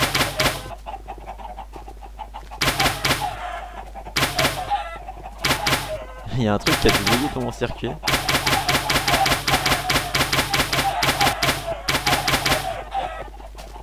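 Chickens cluck repeatedly in a video game's automatic chicken bunker, where birds keep spawning, with dense rhythmic game sounds and clucks running throughout under someone talking.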